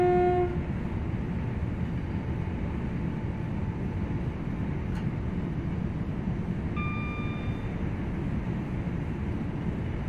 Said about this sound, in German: Signalhorn habe ich noch gar nicht ausprobiert.